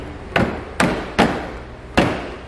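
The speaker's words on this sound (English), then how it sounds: "give it a nice little tap, and we're good to go" A rear diffuser piece on a 2022 Toyota GR86 is tapped into the bumper with four sharp, close knocks in an uneven rhythm, each with a short hollow plastic ring and no voices.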